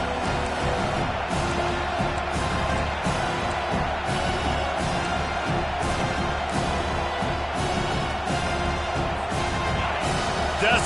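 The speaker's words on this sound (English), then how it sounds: "Decibels rising as the crowd gets behind this defense on 3rd down" Stadium crowd at an American football game roaring behind the defense on third down, a loud continuous swell of cheering and whooping that fills the whole stretch, with a commentator talking over it.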